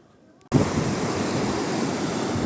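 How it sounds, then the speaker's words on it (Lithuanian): After a brief quiet moment, loud crashing waves of a rough sea and wind noise rush in and continue steadily, close and roaring. "Bangos. Jūra banguota"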